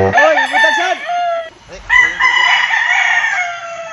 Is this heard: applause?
no